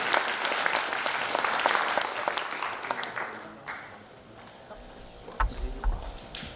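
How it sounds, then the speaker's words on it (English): Applause at a virtual reality panel session fills the first seconds with dense clapping, then thins to scattered claps and light shuffling as it dies away. "Let's give Tim a big round of applause."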